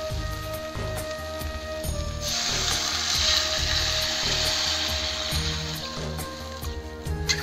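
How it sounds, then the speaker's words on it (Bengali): Water poured into a pan of well-fried spices and boiled potatoes for a potato and tangra fish curry, a steady hissing splash lasting several seconds over background music. "জল দিয়ে দেবো।"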